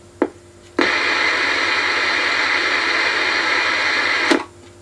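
A 1949 Recordon Thermionic dictaphone gives a short click, then its mechanism spins up into a steady, fairly loud whirring hum lasting several seconds before a second click stops it. No speech.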